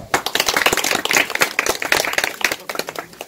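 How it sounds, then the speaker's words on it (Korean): An audience at a Korean commemorative event for the Battle of Ungchi claps steadily, a dense close burst of many hands applauding for several seconds. "다시 한번 박수 한번 쳐주십시오"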